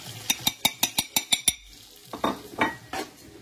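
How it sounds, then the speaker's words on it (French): An onion sizzling gently in a pan while Maghrebi rfissa is prepared, after a regular series of about eight sharp clinks of a large spoon against the pan, then softer scraping stirs; close and moderately loud, no talk. "Là je laisse juste un peu mon oignon cuire un petit peu"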